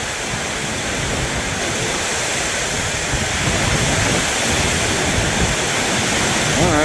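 Strong wind from a summer storm in Thailand roars as a dense, steady rush close to the microphone, swelling slightly toward the end, with no voices.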